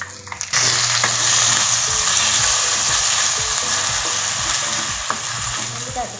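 Tomato puree hits a hot pan and bursts into a loud, steady sizzle that holds throughout, with faint stirring clicks beneath it and no talking.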